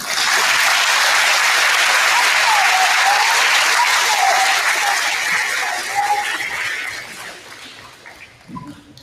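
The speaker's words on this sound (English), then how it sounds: "can I get all of our 5th grade Eagle Pride winners to stand up one more time for a big round of applause?" A school audience gives loud, sustained applause for fifth grade award winners at a recognition ceremony, dense clapping filling the room for several seconds before thinning out toward the end.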